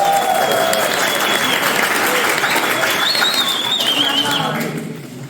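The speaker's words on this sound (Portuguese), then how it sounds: "Palmas para a camarada Renata." Audience applause at the opening session of a 2024 international communist camp: a dense, steady wash of clapping that fills the room, loud and continuous, then thinning slightly near the end.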